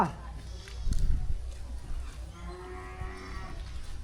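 Cows being fed porridge moo amid a noisy outdoor scene, with low lowing calls mixed under people talking nearby.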